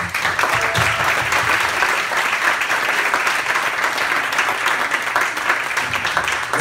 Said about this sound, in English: let's give Brother John Ritcheson a good warm welcome